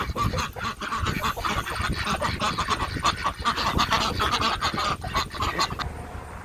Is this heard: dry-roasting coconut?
no